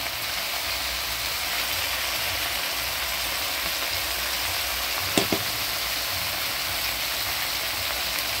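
Ginger-cumin paste and chili paste frying in a pan for a vegetarian jackfruit curry, a steady loud sizzle with a couple of brief stirring knocks near the end.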